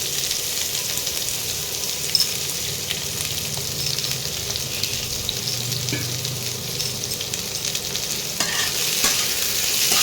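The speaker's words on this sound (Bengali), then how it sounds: "পেঁয়াজগুলো একটু ভাজতে হবে পেঁয়াজের কালারটা চেঞ্জ হওয়া উচিত" Three medium chopped onions frying in hot oil, a dense steady crackling sizzle with occasional stirring, loud and close, constant across the whole stretch with no one talking.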